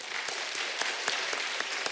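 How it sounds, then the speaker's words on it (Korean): Church congregation applauding a choir conductor during Sunday worship, a steady broadband patter of many hands with a few sharper claps standing out, moderately loud and even throughout with no voices. "우리 감사의 박수 한번 드리겠습니다"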